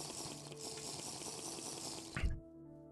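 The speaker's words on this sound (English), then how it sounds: "I suppose I should have a drink." Drinking water in the Minecraft mod TerraFirmaCraft makes a continuous pouring, gurgling stream that runs close and steady, then ends with a brief splash and cuts off sharply to near silence.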